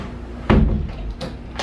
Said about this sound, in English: Lock that door.